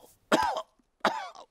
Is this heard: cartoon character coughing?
yes